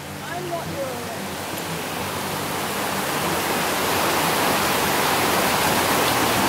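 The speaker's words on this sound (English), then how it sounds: "This is the first creek crossing." Creek water rushes steadily over a backcountry stream crossing in Pennsylvania, a broad, continuous wash that swells slightly louder toward the end, with no voices over it.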